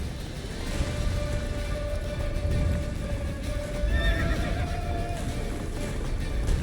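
Roach the horse gallops steadily and whinnies in The Witcher 3 video game. Continuous hoofbeats sit under a rain-like wash of noise, with a clear neigh rising midway.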